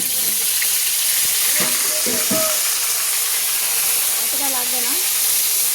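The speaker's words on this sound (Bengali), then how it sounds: "আদাটা একটু ভেজে নিই" Ginger paste fries in hot oil with garam masala and bay leaves, a loud, steady sizzle throughout while someone speaks briefly over it.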